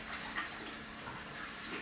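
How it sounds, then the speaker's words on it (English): Hot water runs from a tap into a kitchen sink as a steady, even hiss of flow, close and fairly quiet, with no talking over it. "hot water in the sink"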